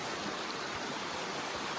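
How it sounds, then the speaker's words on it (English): A Maine river rushes steadily on a hot day at Coos Canyon, a dense, even wash of flowing water with no voices. "We made it out on the river."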